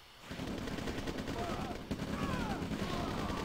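Riflemen firing in a real-time strategy video game, rapid overlapping bursts of small-arms gunfire crackling continuously with occasional louder shots, while a commentator talks over the battle.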